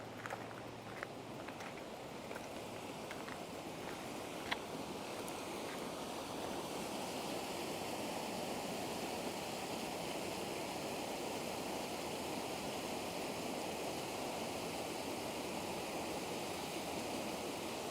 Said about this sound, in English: let's go look at the creek over on this side real quick